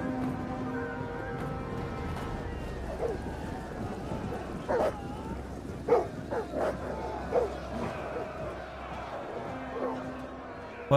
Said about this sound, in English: Oh, the dogs have found the general.